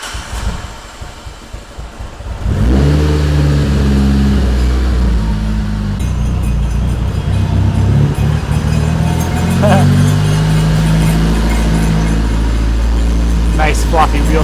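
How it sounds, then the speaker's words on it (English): A Mitsubishi Evo 8 with a new motor is fired up and put in gear to spin its wheels, giving a loud, steady engine drone that starts about two seconds in and holds close and continuous. "fire it up, put it in a gear, and let it spin all the wheels"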